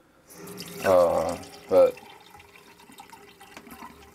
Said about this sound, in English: after I fill up pretty much just 1 cup of water, the water flow is very lacking, and as you can see, it's just dripping.